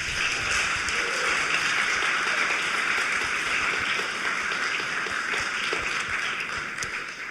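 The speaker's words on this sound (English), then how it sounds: "I can but offer my thanks and implore your applause." Continuous, full audience applause at a poetry slam final, a steady wash of many hands clapping that holds evenly throughout and eases slightly at the very end.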